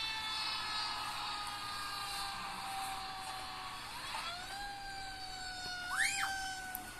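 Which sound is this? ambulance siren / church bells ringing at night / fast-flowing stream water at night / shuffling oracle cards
ambulance siren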